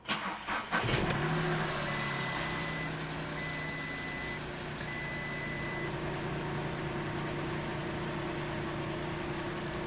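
A crashed VW Polo bought at salvage auction cranks and catches after earlier failed attempts, a short burst of starter churn giving way to a steady idle, accompanied by repeated electronic beeping, heard close with no talking.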